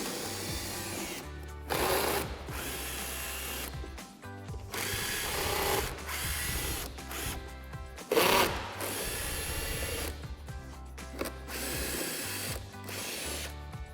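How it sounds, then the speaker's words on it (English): Power tool spinning out bolts with a 7mm socket while removing a Jeep Gladiator JT front fascia to fit LED fog lights, a run of loud whirring bursts broken by short pauses, close and with no talk. "we're going to remove these 6 bolts up here with our 7mm socket."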